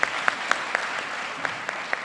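An audience at a diploma ceremony for a graduating class claps in a steady, rhythmic beat of sharp, evenly spaced accents over a continuous wash of applause.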